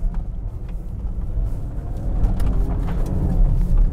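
A Range Rover Velar is braked hard into a corner and slides through it, heard from inside as a low rumbling road and engine roar with scattered tyre and mechanical clicks, growing louder toward the end.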